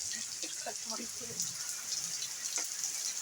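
Heavy rain falls in a village as a steady, dense hiss of drops, with a few faint voices talking softly underneath.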